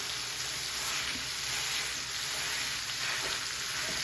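About two pounds of ground beef sizzles steadily in a hot pan, a constant loud hiss and crackle with no talking.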